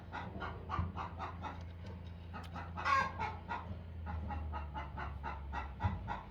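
A chicken clucks over and over in a steady, rhythmic run of short calls near a woodturning workshop where a pen is being made, with a low continuous hum underneath and no talking.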